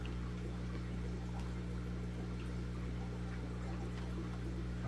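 Water poured into a bag holding live shrimp during an unboxing, a steady continuous trickle and splash heard close up over a constant low hum, with no talking.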